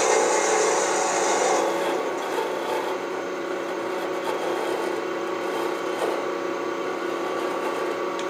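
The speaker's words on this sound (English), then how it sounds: "just take our thin parting tool. Lower it a little bit and bring it on down to 1/8 of an inch" A thin parting tool cuts into wood spinning on a lathe while turning a chess piece, giving a steady, close, continuous scraping hiss that stays loud throughout with no talk.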